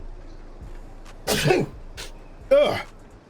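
Two quick sneezes, one at a time with a short pause between, sharp and close against an otherwise quiet room.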